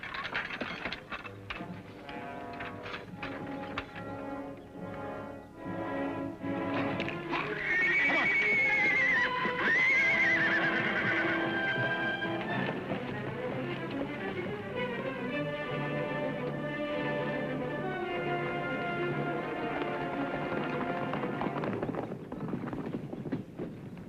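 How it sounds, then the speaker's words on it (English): Horses being unhooked from a wagon whinny loudly and repeatedly, with hooves clip-clopping and shuffling close by throughout a long, busy stretch. "All right, Ed, unhook the horses."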